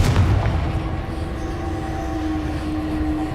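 A fiery blast spell goes off in the Hogwarts Legacy video game: a sharp booming burst at the start that settles into a steady rumbling hum with a lingering tone, and no talking.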